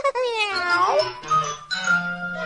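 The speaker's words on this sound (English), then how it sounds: "He had all kinds of meows" A cat meows repeatedly in varied, drawn-out tones, close and fairly loud, with several distinct calls running into one another.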